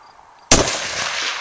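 A single .50 caliber rifle shot fired outdoors near a shed: one sudden, very loud blast followed by a long, rumbling echo that fills the rest of the moment.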